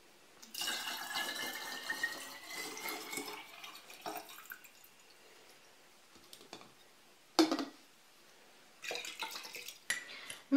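Dandelion-flower alcohol infusion being poured into a jar holding water and honey, heard as a steady liquid trickle and splash with a few clinks of glass, fairly close, with no voices.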